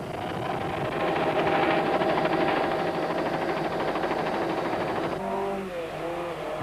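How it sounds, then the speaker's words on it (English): A Volkswagen Golf with a 16-valve engine roars loud and close as it races over a crest in the 1991 Volkswagen International Rally, all four wheels sliding; the sustained blare shifts pitch as it revs near the end. "Die Evertse Harding Golf jaag oor die nek met al 4 wiele wat gly en 'n gesonde brul van die 16-klep enjin"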